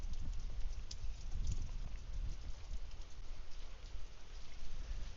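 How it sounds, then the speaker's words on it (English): Rain falls steadily during a morning walk at Bangwad Reservoir in Phuket, Thailand. It makes a soft, continuous patter and hiss with no voices over it. "the rain is very peaceful and"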